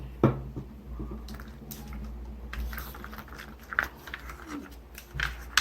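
Homemade slime with a little borax water added is stirred in a cup, giving soft, irregular wet squishes and sticky clicks close up, with no talking.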